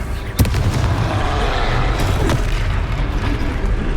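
A Confringo fire-blast spell in Hogwarts Legacy booms once sharply near the start, and further muffled explosive thuds follow over a dense, continuous rumble of combat noise.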